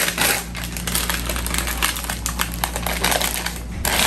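Nail clippers trimming long, curled toenails, a series of sharp close clicks and snips over a constant background hiss.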